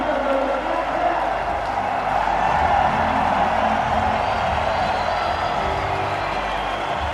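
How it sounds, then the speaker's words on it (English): A large, happy stadium crowd cheers steadily through a New Zealand versus Australia one-day cricket international in 2005, a continuous broad roar with a little clapping and whooping. "Very happy crowd."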